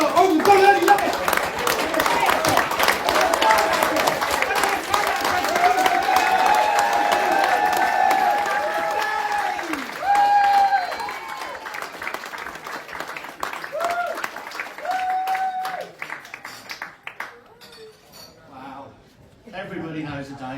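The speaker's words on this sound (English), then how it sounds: "start us off with a round of applause" Applause and clapping from the crowd at a pub comedy debut night fill the room. A comedian talks over it and the clapping thins out toward the end.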